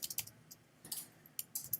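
Quiet bursts of keystrokes on a computer keyboard in a classroom, a few quick clusters of light clicks separated by short pauses, fairly faint.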